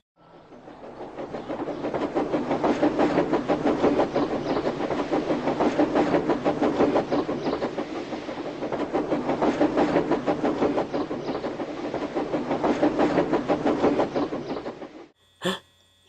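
A Trackmaster toy train runs steadily along plastic track with a continuous rapid clicking rattle, close and fairly loud, before stopping abruptly near the end.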